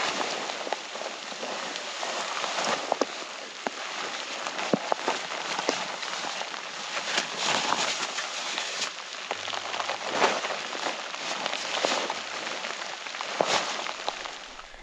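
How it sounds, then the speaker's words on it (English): Rain falls during an overnight hike to Spicers Peak, a steady close hiss of drops pattering on gear and surroundings, with faint footsteps mixed in. "It's starting to rain."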